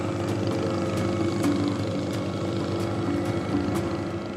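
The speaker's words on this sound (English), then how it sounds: "The small engine is struggling." The small engine of a boat on a twisting jungle river in Borneo drones steadily and loudly, laboring with a low, continuous hum and faint periodic knocks.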